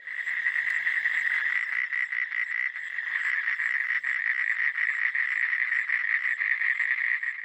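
A warty common toad calls close by in a continuous, rapid pulsing trill that holds steady and loud throughout, with faint insect chirps behind it and no talking.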